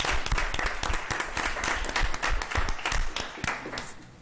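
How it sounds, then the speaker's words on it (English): Applause at a Jackson Public Schools board of trustees meeting: a room of people clapping steadily for about four seconds, a dense patter of hand claps at moderate distance that stays fairly even before easing off at the end. "Let's give them all another huge round of applause."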